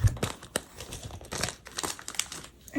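A paper planner sticker being peeled off its backing sheet for a strawberry-themed Hobonichi Cousin page, giving close, dry crinkling and light tearing sounds in short bursts.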